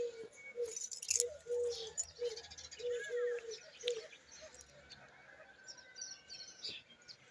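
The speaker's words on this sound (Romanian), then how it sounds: "să auzi câinii, cum deja ați auzit, lătrând, găini, pui, animale" Chickens and other farm birds in a rural village yard, with repeated short clucks and honking calls in a loose rhythm at moderate distance over faint outdoor background.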